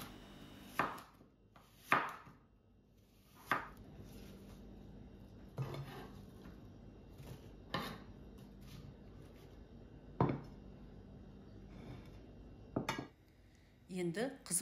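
Apples being cut into pieces for a pie on a board, sharp isolated knife chops spaced a second or two apart, fairly quiet with soft kitchen background.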